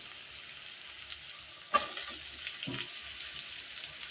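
Bitter gourd and potatoes fry in a pan with a faint soft sizzle, broken by a couple of brief clattering stirs, quiet and close with no talking.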